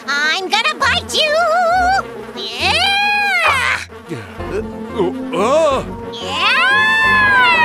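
Whiny, buzzing mosquito sounds in a cartoon children's song, weaving up and down in pitch over a bouncy music backing, loud and continuous with sung voices throughout.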